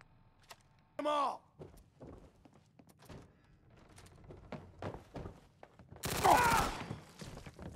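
Gunfire in the Fallout 4 video game, scattered sharp thuds and shots with a louder burst near the start and a heavier volley toward the end.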